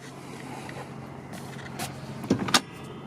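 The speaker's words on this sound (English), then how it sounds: "Car comes with electric windows and mirrors" Electric windows whirring inside a 2016 SEAT Ibiza 1.2 TSI 3-door, a low motor hum under a quiet cabin that ends in a couple of short mechanical clunks as the glass stops; no one speaks.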